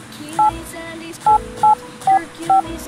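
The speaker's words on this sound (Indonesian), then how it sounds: "Saya coba ketik nomor HP saya sendiri ya untuk mencontohkan." Phone keypad tones sound as a phone number is typed in WhatsApp: five short beeps at uneven intervals over soft background music.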